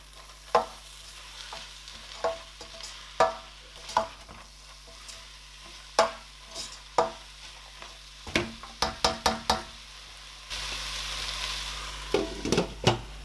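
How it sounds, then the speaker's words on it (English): A spoon repeatedly scrapes and taps against a pot of oil-less Nigerian okro soup as it simmers with okra on low heat, with sharp irregular clinks over a soft bubbling bed and a brief burst of faster stirring near the end. "So I'm going to allow this to simmer for about 2 minutes, okay? I'll mix it up together."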